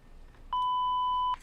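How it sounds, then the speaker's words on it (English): A single sustained electronic censor beep, a steady pure tone lasting close to a second, loud and alone, covering obscenities in the horror video game Tiny Bunny. "Obscenities were covered by another beep."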